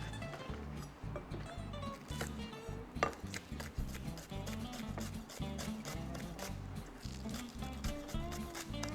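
Garlic being chopped with a knife for gul bo ssam, Korean oyster and pork wraps: a steady run of quick, close knife taps on a cutting board, repeated rhythmically throughout with a few louder strikes and faint background clatter.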